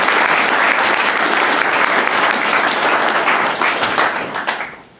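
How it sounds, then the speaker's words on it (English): Audience applause at an evening Scout Court of Honor, a dense, steady wash of clapping from a crowd that holds strong for about four seconds before tapering off at the end. "So can we get a round of applause for them?"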